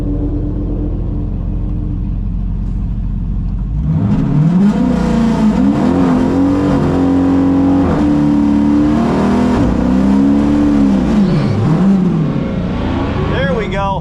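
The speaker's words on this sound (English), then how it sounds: "There we go, much better burnout." Heavily modified drag racing car doing a burnout at Texas Motorplex, loud exhaust roaring up from a low idle into a sustained, wavering high-rev scream that rises and dips for about ten seconds, with a voice talking over it.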